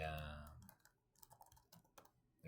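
Clicky keystrokes on a computer keyboard while editing in the Vim text editor, irregular bursts of taps at close range following a moment of speech.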